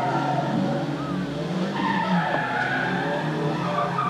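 A gymkhana car at a 1988 event at Kanetsu Sports Land skids through handbrake turns, tires squealing in long wavering tones over a dense, steady engine roar, heard at middle distance.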